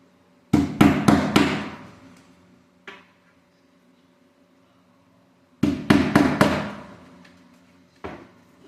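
A hammer drives nails into wood in two quick bursts of four sharp blows each, followed by a lone tap after each burst, with silence between.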